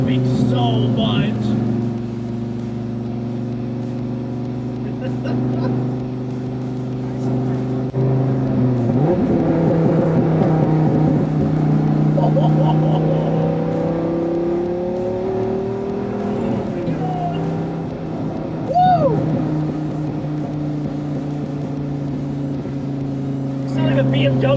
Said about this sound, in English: This car is popping so much.